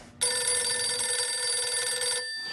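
A telephone rings in one long, steady, bright electronic trill lasting about two seconds, close and loud, with no talk over it.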